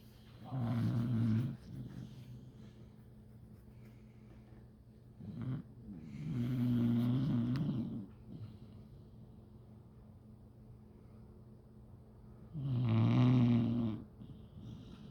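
A sleeping dog snores loudly and close by, three long, deep rasping breaths spaced several seconds apart with quiet pauses between them and no talking.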